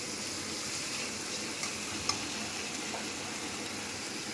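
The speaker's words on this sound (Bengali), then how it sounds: "টমাটার কুচি দিয়ে দিলাম, দিয়ে ভালো করে নাড়াচাড়া করতে হবে" Chopped tomatoes being stirred in a pan over a medium gas flame for a Punjabi dal makhani, giving a steady low sizzle with soft scraping, one small clink near the middle, no talking.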